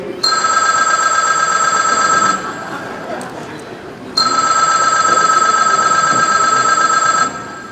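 A cell phone rings during a live theatre show in two long electronic bursts with a pause between, loud and near, with faint background audience murmur.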